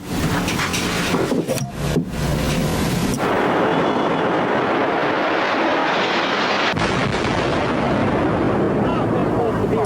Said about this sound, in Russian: Только что прогремел еще один взрыв